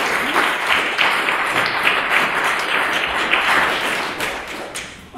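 Steady, moderately loud applause from the audience at an academic conference thanks the interpreters, a continuous even clatter of many hands that holds throughout.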